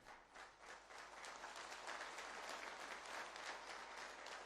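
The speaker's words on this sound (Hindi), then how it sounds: "ये बहुत शानदार तालियां नहीं थी." A short burst of steady crowd applause at a business conference, many hands clapping together at a moderate distance, with no pauses.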